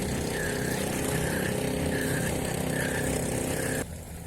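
A motorboat engine hums steadily as a boat passes a fishing spot, its drone filling the air before cutting off abruptly near the end.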